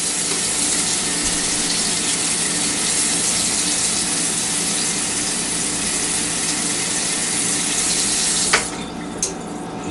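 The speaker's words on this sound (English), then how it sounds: "we want to gradually add in the water until we have a nice soft dough" Cold water poured steadily into cracker dough makes a continuous, close splashing gush that ends with a couple of brief knocks near the end.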